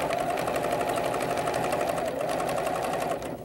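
A home sewing machine stitching appliqué on fabric, a steady, close, continuous rapid needle chatter and motor whir with no pauses.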